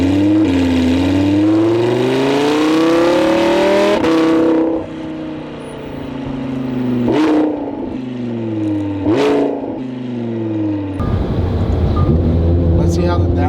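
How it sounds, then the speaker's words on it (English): A deep Lamborghini Huracan exhaust revs up and falls away in several sharp bursts, loud and close, with a voice talking over parts of it. "It's like the best exhaust I heard on a Lamborghini so far."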